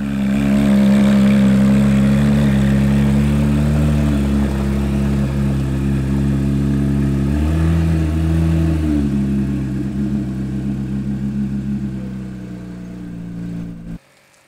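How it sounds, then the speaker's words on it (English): A Porsche 911 GT3 RS engine drones loud and close, holding a steady high idle that rises briefly in a rev before settling, then cuts off abruptly at the end. "Cue the GT3 RS."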